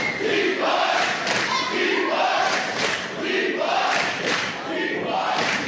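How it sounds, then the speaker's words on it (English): Live crowd at a DEFY Wrestling event, a loud capacity audience chanting and cheering in rhythmic waves that fill the arena. "you can hear the crowd into both of them right now"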